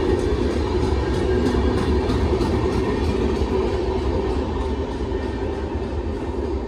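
The general coach of the New Delhi–Jalandhar Intercity train rolls out of Meerut station with a steady, close rumble and rattle of rail cars, constant throughout.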